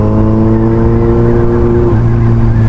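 Steady motor traffic on a busy Philippine road crowded with tricycles, engine drone continuous and fairly loud with a pitch shift partway as vehicles pass close by.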